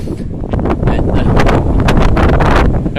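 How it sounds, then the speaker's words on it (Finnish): Strong wind buffets a phone microphone on an evening walk outdoors, producing loud, continuous rumbling gusts that swell and roar without pause. "Syy on tämä tuuli"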